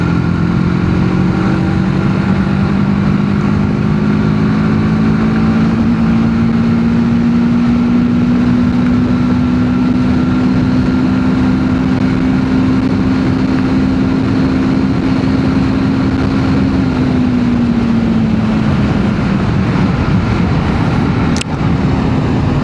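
TVS Apache RTR 310 motorcycle, a 2025 model, cruising at top speed in sixth gear in urban mode: a steady, loud engine drone with a sustained tone that rises slightly, holds, then eases off near the end, with wind and road noise and no talking.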